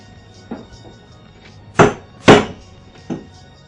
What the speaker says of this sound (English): we're going to clamp the workpiece to the bench top